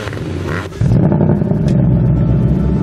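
A car with its exhaust switched into the loud exhaust mode revs up. The rumble suddenly swells and then holds as a deep, steady, throaty drone close by, with no talking.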